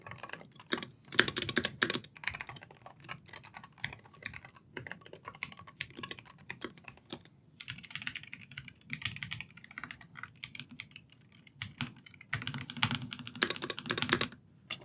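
Fingers type on a Monsgeek M1W DIY 75% keyboard fitted with default keys, producing close, rapid clacky keystrokes in bursts with brief pauses and no talk.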